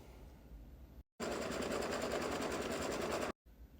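Embroidery machine tacking fabric down in the hoop for a beach bag, a steady rapid stitching whir running continuously for a couple of seconds between brief pauses, close and moderately loud.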